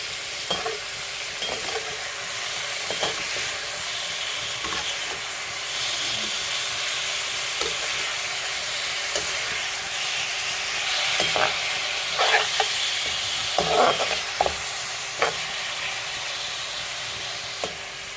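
Chicken sizzles in a hot pan as it is stirred, a steady frying hiss broken by scattered scraping and clacking strokes, fairly close and with no voices.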